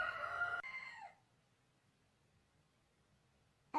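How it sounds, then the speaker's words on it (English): A rooster crows loudly at the start, a harmonic call lasting about a second and trailing off, followed by near silence before another sharp burst begins at the very end. "And yes, our rooster has a name."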